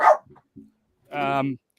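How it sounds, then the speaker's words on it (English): A pet dog barks indoors, with a short yelp followed by a longer, tonal bark-whine, close and fairly loud. "Sorry, that's my dog."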